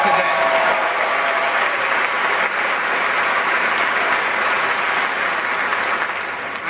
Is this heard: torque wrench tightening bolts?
no